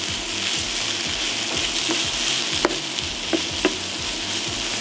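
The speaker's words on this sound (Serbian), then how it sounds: "nastavimo dalje da pržimo dok povrće ne omekša" Mixed vegetables with chopped hot chilli peppers fry in a pan, giving a continuous loud sizzle with a faint rhythmic ticking and a few sharp utensil clicks.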